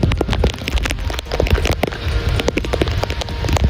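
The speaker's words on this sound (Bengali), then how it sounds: "তো সেই বৃষ্টি হচ্ছে সেই" Rain pours down outdoors, a loud dense patter of drops striking surfaces close by, continuous and uneven with sharp individual splats.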